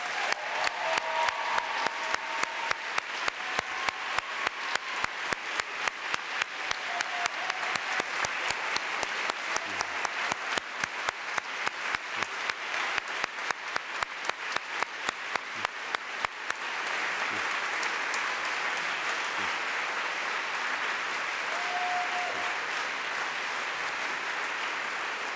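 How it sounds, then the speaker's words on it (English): Sustained audience applause in a church at a 2014 diploma awarding ceremony, starting with a rhythmic unison clap and then spreading into a dense, even roar of hands that continues for over twenty seconds. "Let's give our graduates one last round of applause."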